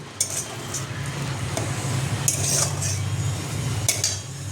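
Fish curry with mustard-poppy masala being sautéed in a pan, Bengali style: a spatula clinks and scrapes against the metal in irregular strokes over a low, thick sizzle, close by.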